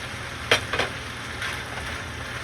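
Garlic hitting hot oil for an old-style Thai fried rice with homemade naem fermented pork, a sudden sizzle bursting up then settling into a steady quieter crackle, close and alone.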